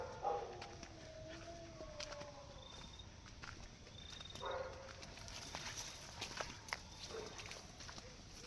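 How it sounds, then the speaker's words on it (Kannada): Dogs howl faintly and far off near a cemetery in a forest, thin drawn-out wails drifting over a quiet outdoor background with light rustling. "ಎಲ್ಲ ನಾಯಿ ಅಳ್ತಾ ಇದೆ."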